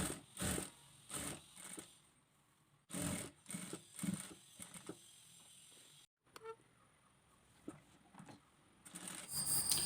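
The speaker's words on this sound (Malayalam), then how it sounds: "ഇതുപോലെ കറക്റ്റായിട്ട് വെച്ച് കൊടുത്ത് നമുക്കത് ഫുള്ളായിട്ട് പതിച്ചടിക്കാം" A sewing machine topstitching a ruffled top or pattupavada garment runs in short separate bursts with pauses and handling noises between, fairly quiet and close.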